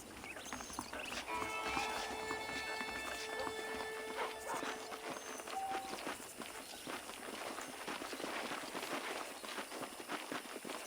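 Horse hooves clip-clop at a walking pace in a Red Dead Redemption game scene, steady rhythmic footfalls over a soft background, fairly quiet, with faint tonal game sounds early on.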